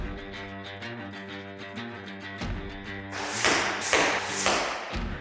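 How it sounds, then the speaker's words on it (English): A field-tip arrow is shot downrange during a broadhead accuracy test and strikes the target with dull thumps and taps, over a steady tonal background. "I'm going to send a field tip downrange first just to get our aiming point."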